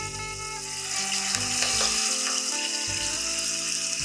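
Marinated chicken pieces with curry leaves fry in hot oil, a close, bright, continuous sizzle with light stirring, over a steady underlying tonal hum.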